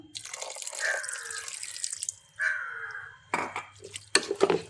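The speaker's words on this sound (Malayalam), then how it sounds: "നമുക്കിതിലേക്ക് ആവശ്യത്തിന് വെള്ളം ഒഴിച്ചു കൊടുക്കാം" Water is poured into a pressure cooker of chicken curry in two splashy bursts, followed by clattering and dripping, while a crow caws faintly outside.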